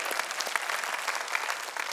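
Steady audience clapping fills a room during a luncheon event, dense and continuous at moderate loudness with no voices over it.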